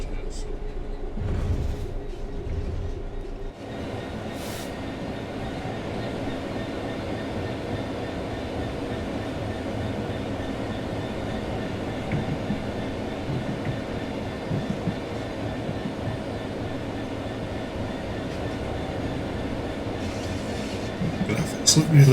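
Rumbling rail noise of a train coasting on level track in Train Simulator 3, a steady low drone with faint clatter running throughout after a brief louder burst at the start.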